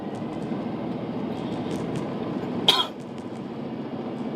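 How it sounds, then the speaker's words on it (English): One short cough sounds during a drive, standing out briefly above the steady low rumble of the moving vehicle. "Still have a bit of a cough."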